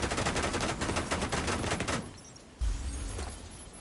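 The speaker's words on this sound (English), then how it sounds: "another goddamn minigun pops out and fucking guns you down" A minigun in The Division 2 fires a long, dense stream of rapid rounds for about two seconds, then stops and leaves a low, rumbling tail after a dull thud.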